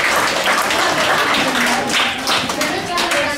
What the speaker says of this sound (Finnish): eikö anneta vanhemmille aplodit tässä vaiheessa?